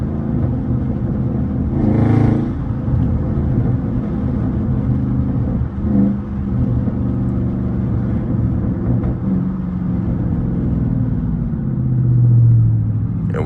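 A widebody Dodge Scat Pack car drives along with a steady, loud engine rumble from inside the cabin, a few short exhaust pops and burbles breaking through, and a swell of revving near the end.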